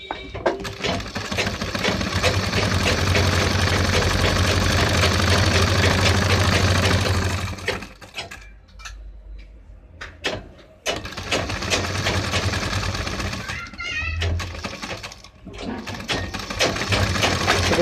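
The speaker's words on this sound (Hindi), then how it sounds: "देखिएगा यहाँ से मैं इसकी सिलाई लगाता हूँ।" A sewing machine runs steadily, stitching a gents' kurta with a patti neck design. Loud continuous whirring for about seven seconds, then a pause with faint handling, then further bursts of stitching.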